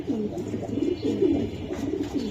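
Racing pigeons cooing close by, a continuous run of low, throaty, rolling coos with no voices.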